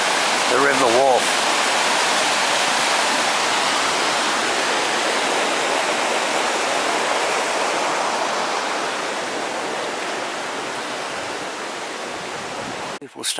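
The River Wharfe near Bolton Priory rushes in a continuous loud broadband roar, steady throughout and close by, with a brief voice near the start.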